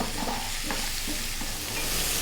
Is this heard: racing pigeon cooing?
no